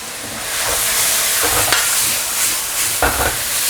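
Stir-frying over high heat after soy sauce, salt and sugar go in, with loud continuous sizzling and hissing close up, broken by several scraping spatula strokes against the wok.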